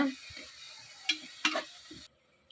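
Masala fries in oil for a kidney bean and egg biryani, a quiet sizzle broken by a few distinct scraping stirs and clicks of a spoon against the pan before cutting off.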